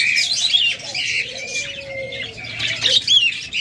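A master breeding pair of pet cockatiels offered at a bird sale gives bright, repeated whistling calls and chirps, loud and close, filling the short stretch almost without pause.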